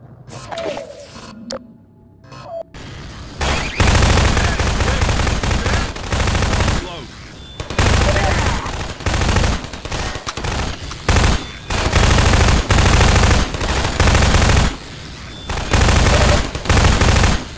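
Sustained automatic turret gunfire in Half-Life 2: Episode Two, loud and close, rattling in long bursts with brief gaps, after a quieter opening with a voice briefly speaking.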